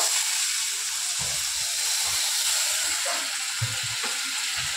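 Water poured into a gravy that has been fried down sets off a broad, loud steady hiss and sizzle, with low bubbling and spatter underneath and no voices.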